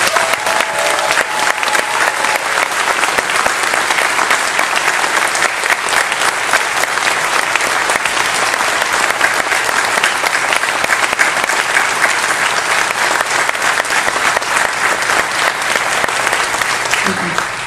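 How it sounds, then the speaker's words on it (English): A large audience at a JoCo Cruise 2018 show on board a cruise ship gives a long, hearty round of applause. The dense, steady clapping fills the whole stretch at full volume and stays constant from start to finish. "take one moment for a hearty round of applause for Stepto."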